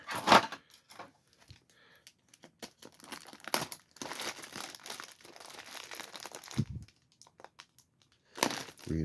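Reinforced tape being torn off a package holding a canvas belt and suspenders, close and crackly: bursts of crinkling and ripping come in uneven spurts, with a few short quiet gaps between them.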